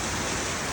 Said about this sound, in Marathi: आज वारा पाऊस जास्त आहे